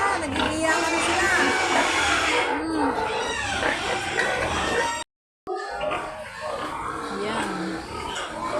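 Hungry piglets squeal and grunt in a pig pen beside their sow, a busy, continuous chorus of shrill cries, close and loud, broken by a brief silence partway through, with voices mixed in.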